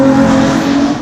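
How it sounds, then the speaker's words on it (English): Toyota Camry 1MZ-FE V6 fitted with a pod intake filter, revving loudly and steadily up close with a raw, droning induction roar and no talk over it. "it gives you the sound, that raw sound of the JDM 1MZ FE,"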